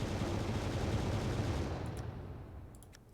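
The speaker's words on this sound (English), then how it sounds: "Thermal guns. And more thermal guns." Thermal guns blasting in the Final Theory space battleship game: a loud, dense roar of rapid gunfire that fades steadily towards the end, with a few faint clicks after it and nobody talking.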